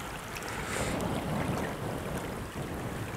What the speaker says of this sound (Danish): så jeg er ked af, hvis der er lidt vindstøj på